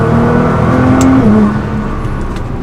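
A Nissan GT-R with a Stage 2 tune pulls hard in second gear, its engine droning loud and close with a rising whine before a brief shift in pitch and a steady continued pull.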